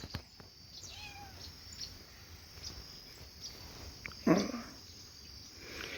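A cat gives a short meow near the middle, close but brief, over a quiet outdoor bed of steady insect chirring with a few faint bird calls.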